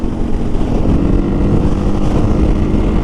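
A 2023 KTM 500 EXC-F dirt bike engine runs with a steady, loud, continuous roar, heavily mixed with wind buffeting throughout. No voices are heard.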